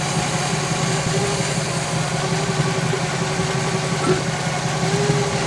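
A big-block engine in a 1966 Chevy Biscayne idles at operating temperature with a steady, even rumble and hum that holds unbroken and fairly loud throughout, with no talk.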